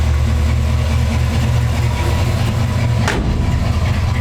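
A 1968 Chevrolet G10 panel van with a 350 four-barrel V8 and dual 2.5-inch exhausts idles nearby. It makes a loud, steady, deep rumble with no talking.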